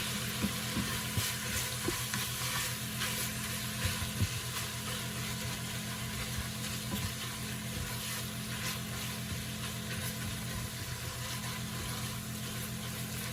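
Ground beef browning in a pan for a cheesy hamburger potato casserole, giving a steady, close sizzle and crackle that runs throughout, with occasional scraping stirs and no talk.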